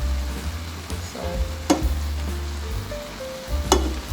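Okra and saltfish sizzle steadily in an electric pot, with a few sharp scraping clatters of a utensil stirring and moving food from the sides to the middle; no talking.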